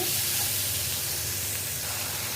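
Masala spices fry in a pan for a Bengali beef tripe bhuna, giving a loud, continuous, close sizzle with no voices.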